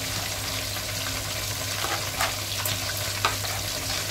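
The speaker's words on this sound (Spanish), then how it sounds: "En este caso yo opté por freírlo." Cod fries in olive oil with a continuous close sizzle and crackle, with a few sharper pops and stirring scrapes throughout.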